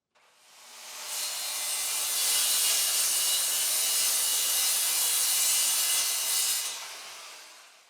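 Hand saw cutting through wood pieces for drawer bases, a loud continuous rasping that builds in, holds steady for several seconds of rapid strokes, then fades out, heard alone.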